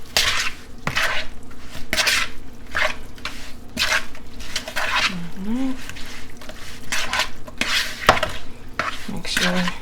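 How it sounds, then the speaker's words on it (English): Paprika and other seasonings mixed in a bowl with a utensil, rhythmic scraping and clinking strokes close up, with a brief low murmur partway through. "Now I'm going to go ahead and mix that together."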